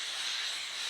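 A steam cleaner gives a steady, bright hiss of escaping steam, close and continuous for the whole second.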